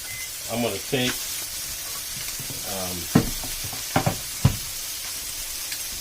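Olive oil sizzling in a soup pot, a soft continuous hiss under a person talking, with a few sharp clinks and knocks of utensils against the pot.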